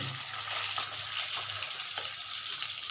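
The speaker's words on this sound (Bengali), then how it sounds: "মাছ দুটো উল্টানো দুদিকেই আমি মোটামুটি এটা ভাজিয়েছি" Fish frying in hot oil, a pair of fillets turned and cooked on both sides, crackling in a steady, loud, dense sizzle with occasional sharper pops, close by and with no talking.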